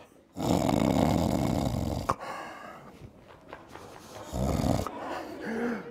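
A voice imitates a sleeping hare snoring loudly in a told story, giving long rasping snores in a slow rhythm, close and heavy, with a quieter snort between them.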